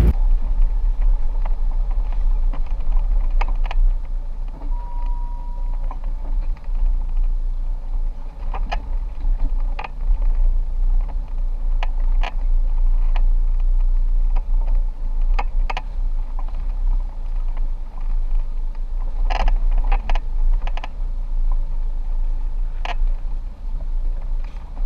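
Off-road vehicle driving the Wickham track in Gregory National Park, with a steady low rumble throughout and repeated short knocks and rattles from the rough surface.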